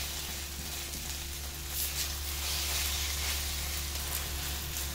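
Eggs and sausages frying in a pan as they are stirred, a steady close sizzle that swells a little in the second half, with no talk.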